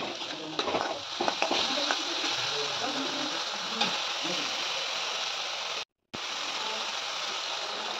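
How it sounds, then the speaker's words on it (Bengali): Soybean curry with a splash of water sautéing in a pan, a loud continuous sizzle and bubbling with quick scraping strokes early on, close and steady, with a brief cut to silence near the end. "জল দিয়ে খুব সুন্দর করে এটাকে কষিয়ে নিতে হবে আরেকবার"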